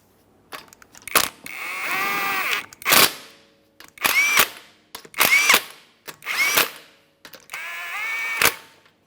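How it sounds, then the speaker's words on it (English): A power tool tightening the 19mm lug nuts on a 2015-2019 Subaru Outback wheel, several loud close whirring bursts with short pauses between them and no speech. "we're going to tighten all 5 of our 19mm lug nuts"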